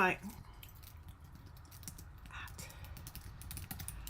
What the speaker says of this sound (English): So now I can type things in.